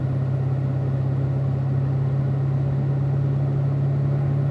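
A car's engine holds a steady, loud drone with a constant low hum as it runs a lap around a cone course, without talk.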